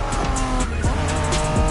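Tires squeal and skid repeatedly on a Honda NSX sports car in the racing game Need for Speed Heat, sharp screeches over a loud, continuous engine roar.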